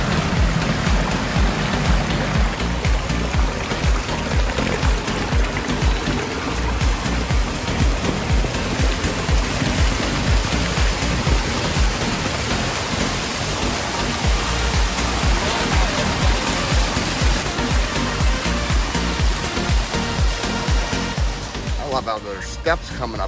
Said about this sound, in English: From right here, it's got to be 9 foot tall high waterfall.